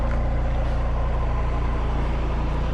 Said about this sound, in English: Old car sound.